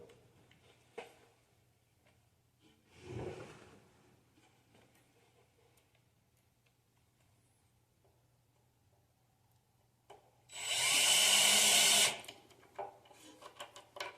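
A power drill driving screws into plywood whirs in one loud, steady burst of about a second and a half, preceded by a brief earlier whir and scattered light handling clicks in a quiet room.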